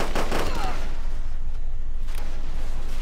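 Cannon and gunfire in a Command & Conquer mod battle, a loud continuous barrage of rapid shots and booms with faint voices mixed in.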